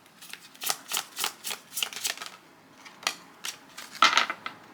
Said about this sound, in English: This deck is so hard to shuffle. It's so thin and so small.